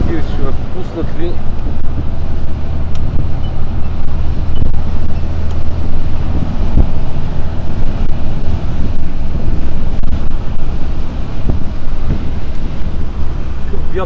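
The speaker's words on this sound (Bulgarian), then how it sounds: "Вятър духа не е истина." Strong wind blows hard across a microphone outdoors, making a loud, constant buffeting roar that fills the whole stretch without a break.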